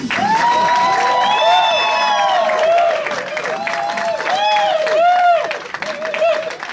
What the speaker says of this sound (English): please give a big round of applause for Mr. Adrian Colon